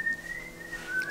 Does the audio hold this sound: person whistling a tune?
yes